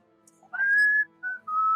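A person whistles a short, clear tune of three sustained notes with brief gaps, close and fairly loud against a quiet background.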